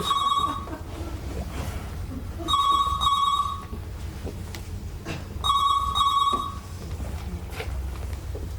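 A telephone ringing in a French office, with three distinct bursts of a bright electronic ring separated by pauses, heard clearly over a low background hum.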